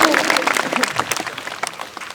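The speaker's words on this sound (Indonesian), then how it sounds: "tepuk tangan dulu buat kawan kita" Dense applause from an audience at an Islamic sermon, steady and fairly loud throughout, with voices mixed in.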